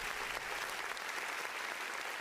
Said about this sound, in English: Round of applause for the Eagles draft.